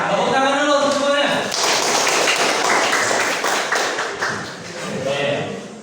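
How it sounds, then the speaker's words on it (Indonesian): A classroom group claps for everyone, a dense patter of hand claps and thumps lasting several seconds under a teacher's voice and mixed chatter. "Oke, tepuk tangan dulu untuk semuanya."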